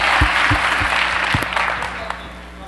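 Audience at a Mitt Romney presidential campaign event in Fargo, North Dakota, clapping loudly in a close, dense burst that tapers off over a few seconds, with scattered cheers and voices mixed in.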